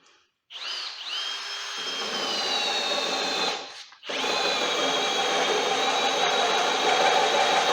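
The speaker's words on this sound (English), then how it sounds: "This drill's way better than the Harbor Freight ones." A power drill runs in two long, steady bursts split by a brief pause, its loud whine held close during work on lower control arms for a Dana 30 axle swap on an S10 truck.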